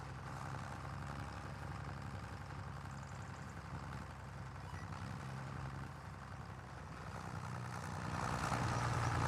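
Tractor engine in a farming video game, a steady low idling drone with mid-range rumble that holds throughout and grows slightly louder near the end, with no talking over it.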